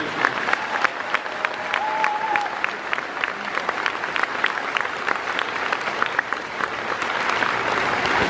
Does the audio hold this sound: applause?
yes